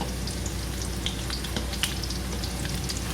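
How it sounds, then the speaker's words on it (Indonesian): Tempeh fries in hot oil in a very thin wok, a steady close sizzle dotted with sharp crackles and pops, with no talking. "Ini tempenya akan saya goreng setengah matang ya."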